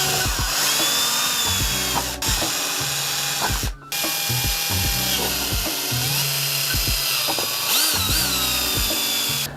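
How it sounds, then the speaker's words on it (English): Power drill boring holes in a plastic trim piece for a Ford Maverick truck, a close, steady whining drill run with brief pauses and pitch changes as the bit bites, no talking. "grab your drill, the supplied bit, your trim, and drill a hole in each of the spots that you marked."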